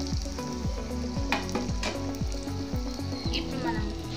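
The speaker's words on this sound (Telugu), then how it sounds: "ఇప్పుడు మనం ఈ పునుగుల్ని వేసేసుకుందాము." Punugulu fritters made from dosa batter frying in hot oil: a continuous close sizzle with bubbling pops and repeated soft scraping or dropping sounds, no talking.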